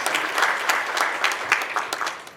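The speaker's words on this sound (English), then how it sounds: "give her a round of applause" Staff meeting audience at a university student affairs gathering gives a short, lively round of applause, many hands clapping in a close, fairly loud burst.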